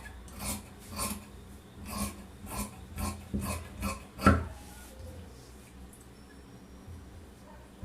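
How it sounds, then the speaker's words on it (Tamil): Scissors cutting blouse fabric from the neck area, a steady rhythm of about eight soft rasping snips, ending with a louder snip and then near silence. "இப்போ நம்ம நெக் பகுதியிலிருந்து கட் பண்ண ஆரம்பிச்சுக்கலாம்"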